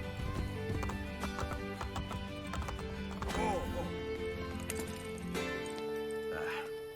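Horse hooves clip-clop steadily under music and voices, with a brief whinny in the mix, in the video game Assassin's Creed Brotherhood.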